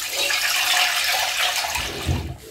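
Water from soaked wheat sprouts draining through a fine strainer, a steady close splashing pour that runs continuously and tapers off near the end.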